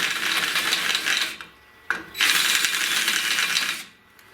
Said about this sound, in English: to round them off, I'm just going to use a step bit